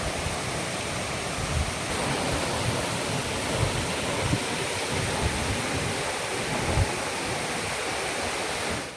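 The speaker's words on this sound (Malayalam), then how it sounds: "നടുക്കുള്ള ഈ പാറക്കെട്ടിൽ വെച്ച് രണ്ടായി തിരിഞ്ഞാണ് വെള്ളം താഴേക്ക് പതിക്കുന്നത്" The Aruvikkuzhy waterfall splits at a rock and pours down in a loud, steady roar of rushing water, with no other sound.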